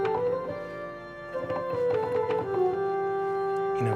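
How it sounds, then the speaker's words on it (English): A pipe organ's melodia stop sounds soft, flute-like held notes in a short melodic line with a few chord changes, steady and fairly close, with no speech. "very fluty sounds like this melodia"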